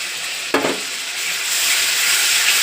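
Ginger paste and tomato paste hit hot oil for a potato and pointed gourd curry, a sharp splash at the start giving way to a steady, close sizzle that grows slightly louder, with no talk.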